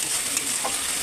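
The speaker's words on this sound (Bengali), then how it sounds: "অল্প পরিমাণে জল দিয়ে দেবো যাতে মশলাগুলো আরও ভালোভাবে সুন্দরভাবে কষানো হয়ে যায়" Spice paste cooking in oil with a splash of water added, a brief close hiss and crackle with a stirring scrape in the middle, no voices.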